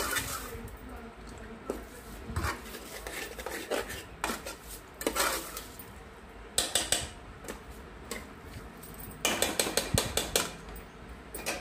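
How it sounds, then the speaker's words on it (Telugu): A metal spoon scrapes and clinks against a pan as spices are stirred into food in a Telugu home kitchen, with irregular bursts of clattering strokes, some in quick clusters, close and fairly quiet. "ఇప్పుడు ఇవన్నీ వేసిన తర్వాత ఒకసారి బాగా కలుపుకోవాలి"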